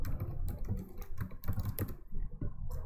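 A command is typed on a computer keyboard in a Linux terminal, with quick close clicking keystrokes in short bursts that pause briefly near the end, no talk.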